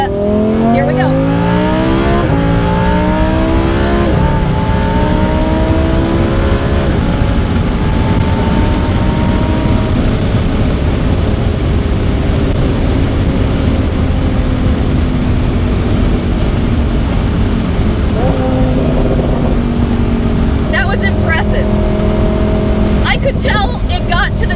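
A modified Lamborghini Huracan accelerates hard to top speed, its engine climbing loudly through several rising gear sweeps with brief drops at each shift, close and continuous.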